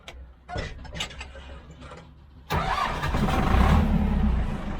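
A tractor engine cranks briefly, then catches and settles into a loud, steady rumbling idle with some mechanical clatter, during an oat harvest.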